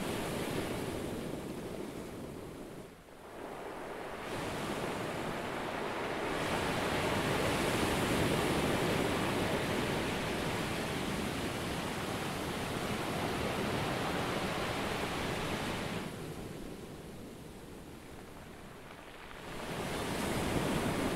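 Ocean waves break on a beach in a continuous, broad wash of surf that swells and recedes in slow surges, soft and somewhat distant, with no voices.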